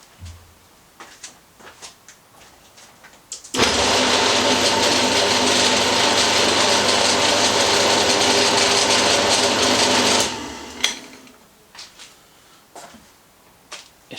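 A Boxford lathe's electric motor is switched on and runs steadily for about seven seconds, a loud continuous hum with a broad whirring whine, then cuts off and quiets. Faint handling noises come before and after.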